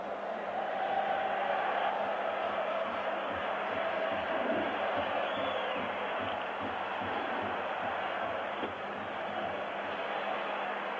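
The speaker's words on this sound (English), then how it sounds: "And now most people in the stadium standing and singing." An Italian football crowd in a stadium keeps up a broad, distant wash of singing and chanting, steady and muffled throughout with no clear voice standing out.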